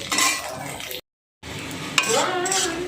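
Onion and garlic frying in a pan while being stirred, with a close sizzle, spoon scrapes and a metallic clink, cut by a brief gap of silence partway through.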